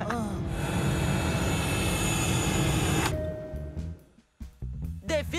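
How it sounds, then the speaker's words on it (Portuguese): A cartoon airplane roars loudly and steadily with engine noise as it comes in to land, then the roar cuts off abruptly, followed by brief thuds and short animated sound effects. "Dentro de alguns instantes estaremos aterrissando."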